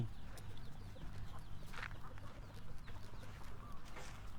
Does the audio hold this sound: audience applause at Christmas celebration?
no